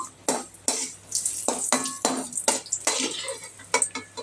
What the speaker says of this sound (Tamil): சிம்மில் வச்சு வறுத்துக்கோங்கம்மா இல்லைன்னா தீஞ்சு போயிடும்